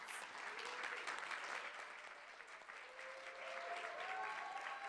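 A gala audience at Tommie Smith's Youth Legacy Gala 2020 applauds in a steady, dense wash of clapping that holds evenly for several seconds in a large room.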